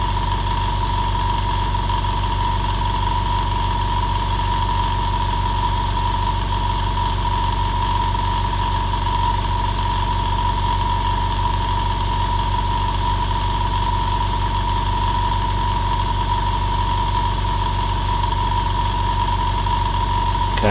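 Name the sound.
Iwata IS975 airbrush compressor running to refill its tank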